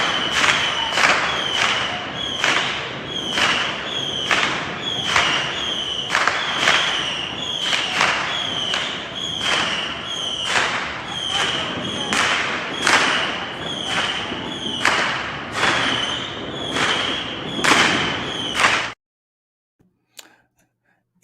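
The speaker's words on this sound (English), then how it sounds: "here's some fireworks that are now happening in Cagney's local neighborhood" Neighborhood fireworks on New Year's Eve pop in a long, evenly spaced series of sharp bangs, about one per second and fairly loud, before cutting to near silence.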